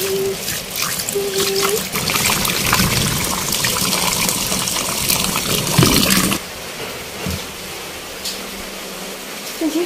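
Water running and trickling as mung dal and Gobindobhog rice are rinsed for khichuri, a steady splashing wash for about six seconds that then drops to a quieter dribble.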